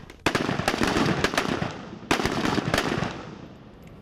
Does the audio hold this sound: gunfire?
yes